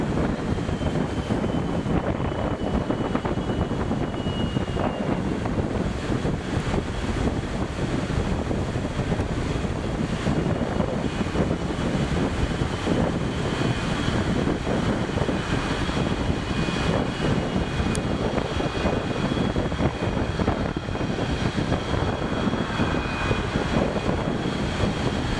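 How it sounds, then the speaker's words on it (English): Jet aircraft passing overhead near a Boca Chica launch site, a broad, continuous roar that holds steady and loud throughout, mixed with heavy wind noise buffeting the microphone. "Here come 2 more jets."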